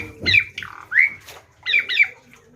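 A jalak starling beside a clear koi pond gives a series of loud, close, harsh squawks and chirps in quick bursts.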